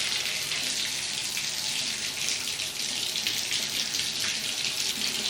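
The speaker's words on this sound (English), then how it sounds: "turn the water on" Water gushes steadily and loudly from a Delta shower tub spout, a dense even rush that never lets up across the whole stretch, with no one talking.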